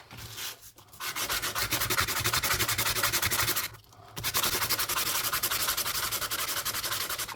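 Sandpaper rubbing against a metal coin ring, a steady rapid back-and-forth scratching in close, even strokes, pausing briefly twice before resuming.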